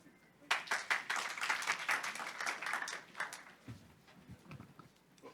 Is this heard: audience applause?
yes